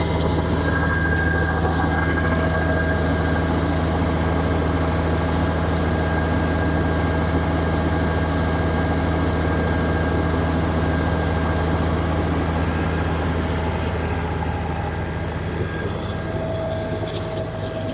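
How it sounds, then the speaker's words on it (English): A 390 horsepower auxiliary pump engine pushing liquid manure from a farm lagoon out to a field drones loudly and continuously, with a steady low rumble and constant mechanical whine, close by and unbroken with no voices. "This is a 390 horsepower auxiliary pump that will keep the pressure up from the lagoon to the distributor tractor in the field."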